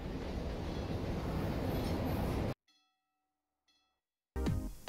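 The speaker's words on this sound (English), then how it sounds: "or if perhaps the train is passing by." A train rumbles past in the video game CS:GO, a loud steady roar of rolling wheels that cuts off abruptly into near silence with a few faint tones, then the loud noise bursts back in.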